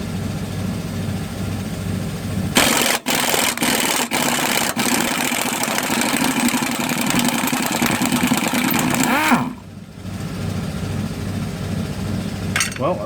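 Air compressor running in a workshop during a ball joint job on a 1993 Ford Courier pickup, a loud, steady mechanical drone that starts abruptly, holds for several seconds with a few sharp clicks, then drops back to a lower hum.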